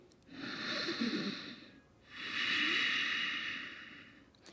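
Deep yoga breaths during a vinyasa flow: two long, close, airy breaths, each a smooth rise and fall with no talking.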